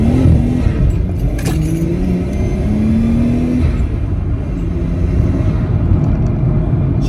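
A stock Nissan Skyline R34 GT engine revs up and drops back in rising and falling pitch sweeps, loud over steady road rumble and wind, with no talking.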